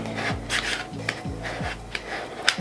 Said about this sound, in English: I like to use my weeding hook to pick up the transfer tape, burnish here.